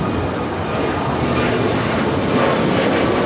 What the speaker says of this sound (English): It's that brand new A321neo heading to Vegas